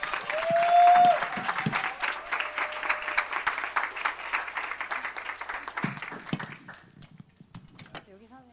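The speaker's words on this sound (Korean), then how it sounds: "그래서 큰 박수로 우리 이명랑 청년을 앞으로 모시도록 하겠습니다." A church youth gathering claps to welcome a young speaker forward, a loud burst of applause that fades gradually over several seconds into scattered claps and quiet room noise.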